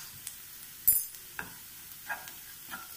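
Coriander powder roasting in a hot pan while a hibiscus tamarind curry is cooked, a faint sizzle broken by a few soft clicks and stirring taps, close and quiet with no voices.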